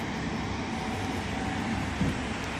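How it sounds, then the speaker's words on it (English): A train passing at a station, heard as a steady, dense rumble with broad noise that holds evenly throughout and swells briefly near the end. "I think that's the train"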